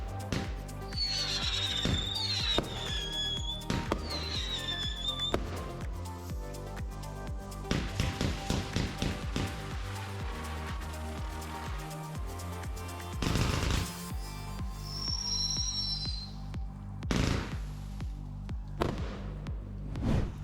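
A firework cake fires silver howls, strobes and colour-changing ghost swimmers: rising whistling howls, dense crackling strobe bursts and sharp reports in a busy, loud multi-effect sequence, with no voices.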